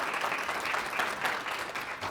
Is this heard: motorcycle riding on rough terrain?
no